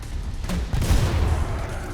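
Killing Floor 2 gunfire erupts in a burst of booming shots, followed by a rumbling sustained barrage at moderate loudness.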